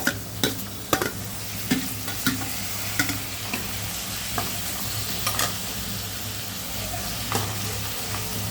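Tomato and green chili sautéing in a pan for a lentil-free sambar, with a steady frying sizzle broken by repeated sharp scrapes and taps of a spoon stirring, close and continuous with no talking.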